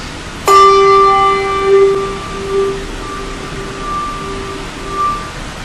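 A single handbell is struck once, then turned sideways so its long ringing tone wavers and echoes as it slowly fades, heard clearly on its own.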